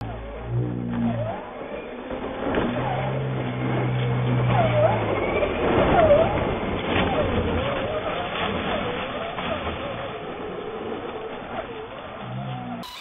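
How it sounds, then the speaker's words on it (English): A Traxxas Slash 4x4 VXL brushless RC car on crawler tires drives outdoors, its motor whirring and rising and falling as it moves near and away, with people talking and birds in the background. "he is now running the Slash with the crawler tires"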